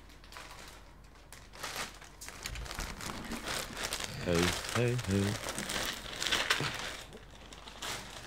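Crinkling of a plastic bag from the Tunatan rest stop, rustled in bursts up close while voices talk and exclaim over it.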